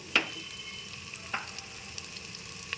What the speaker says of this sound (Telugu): అల్లం వెల్లుల్లిపాయ కూడా వేగిపోయిందండి